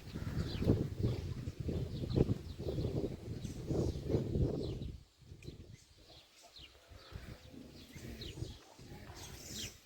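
Pigeons coo in low, throaty bursts, repeated through the first half, then quieter rustling with faint chirps nearby.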